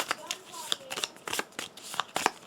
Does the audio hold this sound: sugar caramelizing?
no